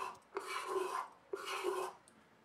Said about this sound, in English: The epoxy gets leveled easily with a card scraper.